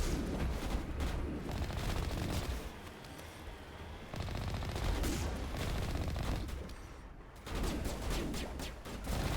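Ship cannon fire from the video game Mass Effect comes in heavy, rapid volleys, loud booming bursts rolling together in three long barrages with brief dips between them.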